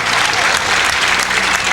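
Crowd applauding steadily at a 1995 World 8-ball semifinal pool match between Mark Jarvis and Efren Reyes, a dense, loud wash of clapping filling the hall without a break.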